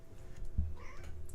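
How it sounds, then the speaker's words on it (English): A cat gives a single short meow, moderately close and brief, against a quiet room with low background hum. "The cats are singing."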